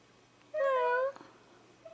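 A pet cat gives a single clear, drawn-out meow lasting about half a second, close and fairly loud against a quiet room with a faint steady hum.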